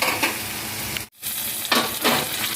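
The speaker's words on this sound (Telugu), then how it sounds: "ఆనియన్స్ గోల్డ్ కలర్లో ఫ్రై అయ్యే వరకు ఫ్రై చేసుకోవాలండి." Onions frying in a pan for a chicken fry crackle in a loud, steady sizzle, with stirring scrapes, a brief near-silent break about midway, then continued frying.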